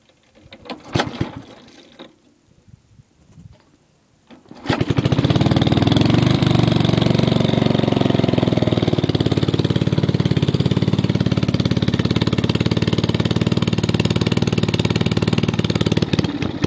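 MTD 5hp rotor tiller engine that has sat for ten years, a few sputtering attempts and then a loud, close, steady running drone that holds to the end.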